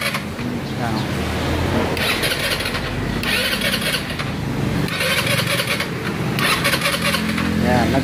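A Rusi scooter engine catches and runs after a push start, a steady mid-pitched engine sound that continues throughout with a voice talking over it.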